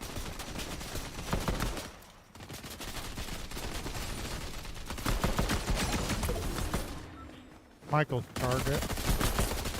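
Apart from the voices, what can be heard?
gunfire in a video game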